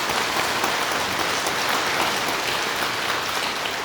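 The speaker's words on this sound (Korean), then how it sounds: "그럼 박수 한번 쳐드려요." Steady, dense applause from an audience at a Buddhist temple dharma service, filling the room evenly from start to finish with no speech over it.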